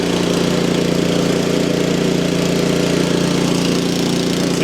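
A PowerSmart snow blower's small engine runs close and loud at a steady, even idle, a continuous rumbling chug with no pauses and no voices.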